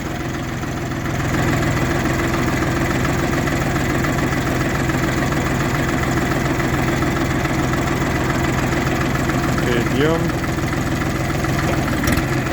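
A small tractor engine idles and chugs steadily up close, a continuous rumbling drone with a brief voice heard over it early on.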